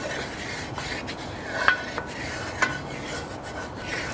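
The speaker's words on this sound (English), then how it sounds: "Give this a nice little extra stir." Egg mixture stirred in a pan with a mitt-covered hand, soft scraping under low frying hiss, with a couple of brief clinks standing out.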